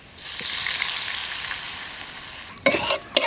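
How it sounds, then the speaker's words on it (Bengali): Water poured onto fried onions in a hot kadai bursts into a loud hiss that fades slowly, followed by a few sharp spatula scrapes and a second sizzling flare, close and without talk. "বাকি মশলা যাতে পুড়ে না যায় তাই অল্প একটু জল দিয়ে দিচ্ছি কড়াইতে"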